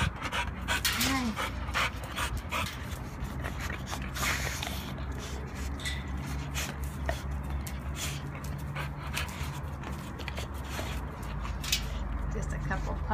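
Quick, rhythmic panting from puppies at an animal shelter, close by, with soft snuffles and occasional whimpers under nearby talking.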